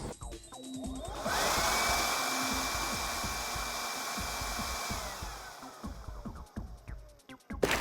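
A Dinshare 20V cordless blower spins up to a steady, loud, close whine held for several seconds, then winds down into clicks and handling noise.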